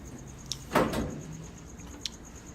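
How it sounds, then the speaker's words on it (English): Kenmore Elite dryer door slid onto the dryer body, a single rough scraping slide close by, bracketed by two small sharp clicks. "I slid the door onto the body"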